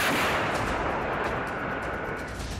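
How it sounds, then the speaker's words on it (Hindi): A huge explosion destroying a Russian S-400 air defence system and its missiles in Crimea during the Russia-Ukraine war: a continuous, dense, loud roar and rumble of blast and burning that fills the whole stretch and slowly eases. "ये ऐसा धमाका है"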